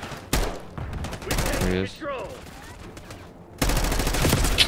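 Bursts of automatic gunfire crackle in the video game Black Ops, a loud volley at the start and another near the end, with a player talking briefly in between.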